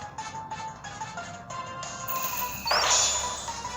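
Pokemon Z-Ring toy playing its Inferno Overdrive move sound effects, tinny electronic tones and chimes from a small speaker building into a harsh crashing burst near the end, fairly close and unaccompanied by talk.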